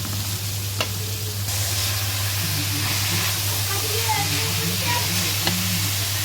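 Carrots and beans for noodles sizzle in a hot pan with a steady hiss and light stirring, while a constant low hum and faint distant voices sit underneath.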